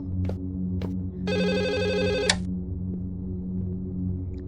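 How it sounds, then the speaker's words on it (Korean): An old-style telephone bell rings in a Chinese funeral horror video game, one rapid trilling burst lasting about a second over a low, steady ambient hum, with no talking. "전화가 울리네요."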